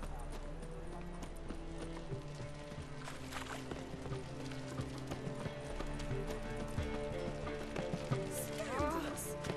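Horse hooves clip-clopping steadily in The Witcher 3: Wild Hunt, a close, continuous trot under game music, with someone talking over it.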